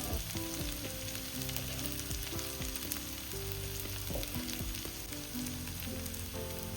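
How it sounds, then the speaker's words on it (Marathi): Tomato frying in oil in a pan with red chili powder added, giving a steady, close sizzle with light stirring, all under a continuous background of melodic music. "आता मस्त टमाटर भाजलेलं आहे आणि आता त्याच्यामध्ये आपण आपला लाल तिखट घालून घेऊया"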